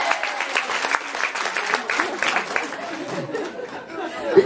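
Audience applause and chatter at a concert during the FrancoFolies festival in La Rochelle, dense clapping rising and falling for several seconds with a crowd murmuring beneath it.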